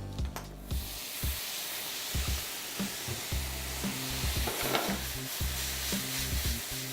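Apple cider vinegar with brown and white sugar sizzling in a hot pan with sauerkraut, a loud continuous hiss broken by repeated low thuds and stirring scrapes as the pan is tossed, close and steady.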